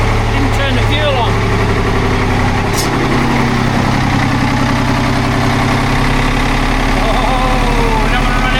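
A boat's diesel engine runs loud and close after the fuel tap is turned on, a steady rough idle with a rumbling low throb, while someone talks over it.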